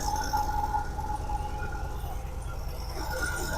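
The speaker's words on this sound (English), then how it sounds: "Alternator bearings making some noise." Worn alternator bearings whine steadily and high-pitched over the low, continuous engine drone of a 1964 Buick LeSabre, close and unbroken throughout.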